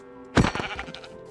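A sheep in a farming video game gives a single loud bleat after a brief quiet moment, wavering and fading over about a second.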